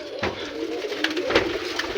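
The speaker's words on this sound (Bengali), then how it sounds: "এটা আমার কবুতর, আমি দেখাচ্ছি আর কি।" Pigeons at a large pigeon farm coo in a low, muffled murmur, close by, mixed with brief rustles and thumps and no speech.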